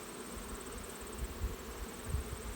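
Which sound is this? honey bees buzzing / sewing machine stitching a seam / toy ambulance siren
honey bees buzzing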